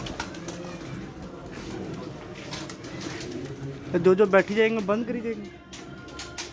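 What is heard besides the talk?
pigeons cooing and flying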